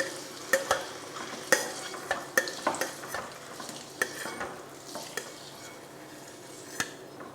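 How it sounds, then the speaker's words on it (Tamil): Boiled eggs sautéed in oil in a pan, a soft sizzle under irregular sharp clinks and scrapes of a spoon against the metal pan, close and moderately quiet, with no talk. "ஒரு நிமிஷம் 2 நிமிஷத்துக்கு எண்ணெயில் இந்த மாதிரி வதக்கி எடுத்துக்கலாம்."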